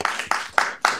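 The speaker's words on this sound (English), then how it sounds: "You really deserve a round of applause." Audience applause at a city council meeting, heard as a few sharp, close hand claps spaced at a steady beat, each with a quick bright attack.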